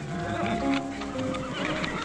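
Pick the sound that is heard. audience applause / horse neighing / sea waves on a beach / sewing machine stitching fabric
horse neighing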